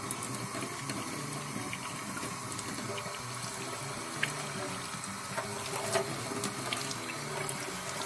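Tap water runs steadily at low pressure onto a wool fleece in a sink, a continuous close splashing wash with small gurgles and no talking.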